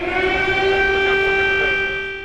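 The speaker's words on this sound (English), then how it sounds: "In a press conference bookended by air raid sirens" A loud, steady air raid siren wails continuously, its sustained tone holding level before fading slightly at the end.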